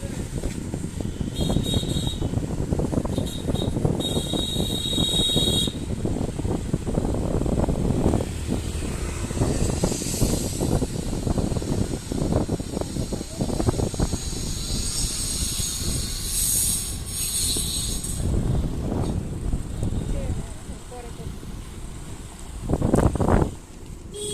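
Steady wind buffeting and road rumble while riding a scooter outdoors on the way home in cold weather, a continuous broad roar lasting throughout with a brief louder gust near the end.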